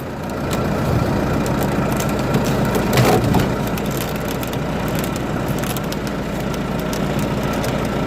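A winch spools in cable while dragging a log, giving a continuous grinding, crushing rumble over a low engine drone with a sharper burst of crackling near the middle.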